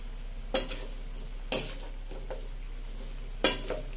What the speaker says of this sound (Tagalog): Ilagay na rin po natin yung gulay natin po.